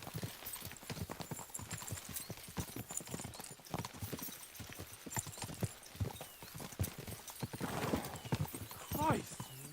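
Horses trot with a steady clip-clop of many hooves, close by, under background voices, with a horse whinnying near the end.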